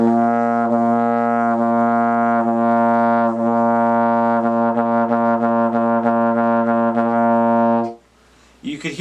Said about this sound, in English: So I'm going to blow a note and I'm going to start tonguing.